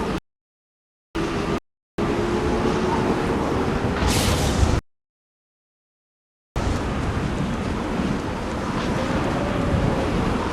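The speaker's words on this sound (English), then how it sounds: "Navigating this storm is brutal." Storm wind whips around a ship in Mass Effect 2, a rushing, gusty roar with wind buffeting the microphone, broken by several abrupt silent gaps before the howl returns and holds steady to the end.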